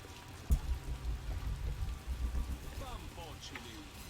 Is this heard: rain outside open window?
yes